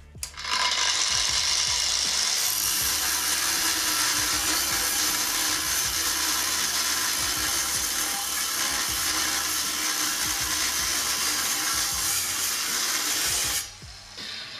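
A Procraft angle grinder pressed hard into metal under heavy load, a loud continuous harsh whine and grinding hiss lasting many seconds before cutting off abruptly.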